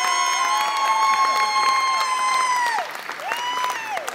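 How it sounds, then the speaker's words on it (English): Applause and light cheering from an open mic audience in the UK, heard under a sustained, sliding tonal sound that runs through the brief clip. "Round of applause,"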